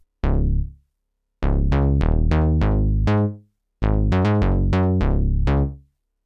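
The Super 8 synth preset Megatron plays on its own: a series of punchy, bright synth notes with quick attacks and decaying tails, grouped in three loud phrases with short silences between, no voices present.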